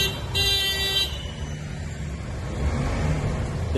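Heavy traffic jam near Khadki Railway Station, where road excavation has dug up both sides of the street: a loud car horn toot early on over a steady, dense rumble of idling and moving vehicles.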